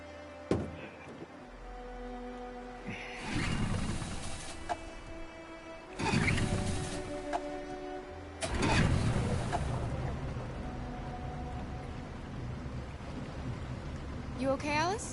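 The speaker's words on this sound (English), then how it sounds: "We're far enough out. We can use the engine." Boat engine running in Detroit: Become Human as the craft heads out across open water, a steady low drone broken by a few louder surges and splashes.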